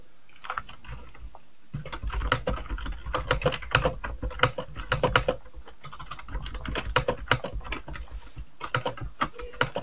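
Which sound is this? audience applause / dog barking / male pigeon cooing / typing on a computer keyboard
typing on a computer keyboard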